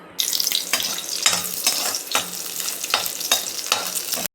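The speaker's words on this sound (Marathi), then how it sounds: "आता त्याच्यामध्येच हे आपण जे काजू बदाम जे घेतलेत ते पण मी ह्याच्यामध्ये थोडे फ्राय करून घेते" Cashews and almonds fry in a pan, with a sizzle broken by repeated scraping stirs at a steady rhythm, close and fairly loud, and no speech.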